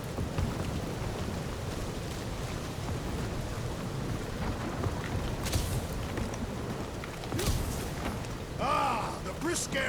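A thunderstorm in the Marvel's Guardians of the Galaxy video game: steady rain hisses throughout, under low rumbling thunder, with a brighter crack mid-way and brief voices near the end.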